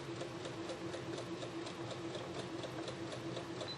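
A home sewing machine stitches through a quilt block in a steady, rapid mechanical patter that runs evenly and fairly softly throughout, with no talking.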